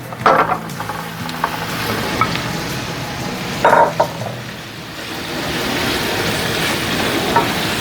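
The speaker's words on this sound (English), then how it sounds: "Now I'm going to add my sausages" Italian sausages added to sautéing onions in a pan, a steady broadband sizzle with a few clattering stirs and scrapes near the start and middle, continuous and close with no talking.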